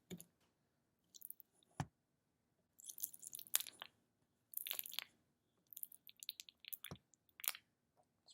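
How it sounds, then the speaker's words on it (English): A comb scraping open the wax cappings of honeycomb cells on a hive frame, heard as scattered bursts of sticky, crackling scrapes and clicks with short pauses between strokes, fairly close and quiet. "we're using this comb here to just scrape those cells open to expose that honey"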